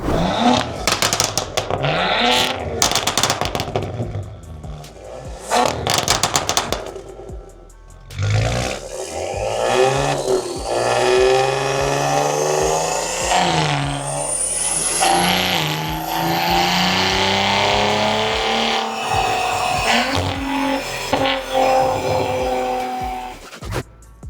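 A tuned car engine revs hard and loud, rising and falling in pitch, with sharp crackles and popping bursts from the exhaust between revs.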